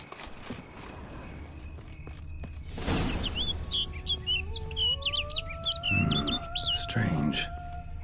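A bird in The Witcher 3: Blood and Wine chirps in quick repeated bursts over ambient wilderness sounds, with rising tones and occasional thumps nearby; no one speaks.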